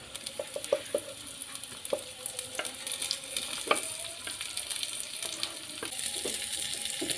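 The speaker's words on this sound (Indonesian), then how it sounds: "Kita aduk-aduk terus" Garlic and shallots stir-fried in a pan, a continuous sizzle broken by scraping and tapping strokes of the spatula at an irregular rhythm, close by with no talk.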